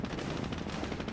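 Half-track machine gun fire suppressing flamethrower engineers in Company of Heroes, a rapid, continuous rattle of shots in a short burst, fairly close and steady.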